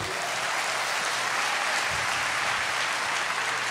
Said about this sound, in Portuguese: Aplauda esse Deus, por favor